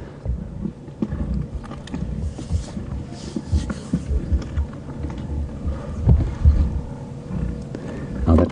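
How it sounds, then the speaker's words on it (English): A pride of five lions feeds on a zebra foal kill outdoors, producing irregular wet crunching and tearing bone-and-flesh sounds, close and continuous with occasional louder cracks under low grunting and rustling. "it's the molars, which are like sharp-edged blades slicing the meat off the bone and off the skin."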